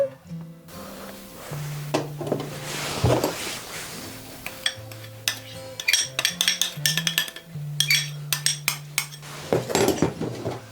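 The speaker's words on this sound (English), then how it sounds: "I'm going to mix it all around with a whisk" A whisk stirring a xylitol, vanilla and chocolate powder mixture in a bowl gives quick clinking, scraping metal-on-bowl taps that grow faster and busier toward the end, close and moderately loud.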